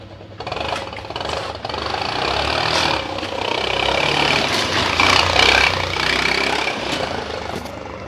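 A scooter engine with its exhaust taped to mimic a KTM Duke revs and idles, a rough close rumbling drone rising and falling in several throttle blips, heard alone.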